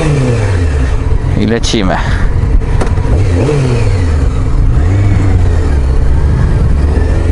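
A Romet motorbike engine revs and rises in pitch while riding, loud and close with wind rush, repeatedly climbing and dropping through the gears as someone talks over it.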